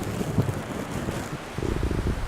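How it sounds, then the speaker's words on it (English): Strong wind from a starting summer storm in Florida gusts and buffets the microphone in loud, uneven rumbling bursts, with no one speaking. "It's starting to get super windy."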